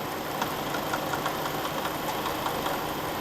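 A Jeep engine idles rough with a fast metallic rattle and knock, a steady close mechanical clatter with no talk.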